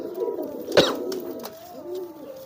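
A young squab pigeon coos in a soft, rolling, throaty burst, close by and fairly loud, then trails off into quieter murmuring coos.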